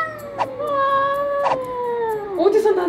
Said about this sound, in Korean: 내가 초대하지 않은 고양이인 것 같은데.